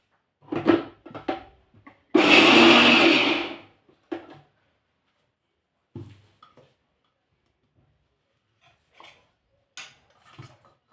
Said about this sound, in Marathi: आता हे एकदा फिरवून घेणार आहे ही चटणी आपल्याला खूप बारीक नाही करायची फक्त अगदी थोडा वेळ फिरवायचा आहे बघा मिक्सरवरती